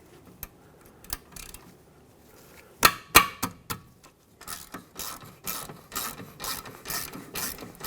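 A wrench works on 14mm caliper bracket bolts on a Hyundai Santa Fe, giving scattered metallic clicks and ratcheting, then a quick cluster of sharp cracks as the bolts break free, followed by faster ratchet ticks, close and otherwise quiet.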